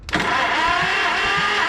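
An Oliver Super 55 tractor engine cranking over on the starter during a compression test, a brief steady whirring with rhythmic low pulses, close and fairly loud.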